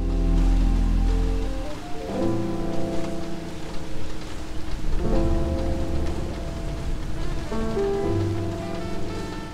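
Steady rain falls in a music video, heard as a dense hiss blended under loud sustained music with deep bass tones throughout.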